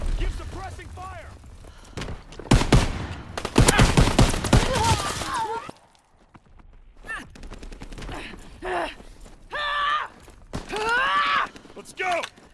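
Suppressing gunfire in the World War II shooter Call of Duty WWII, loud bursts of rapid fire and mechanical clatter in the first half, then quieter intermittent shots as voices shout over the action.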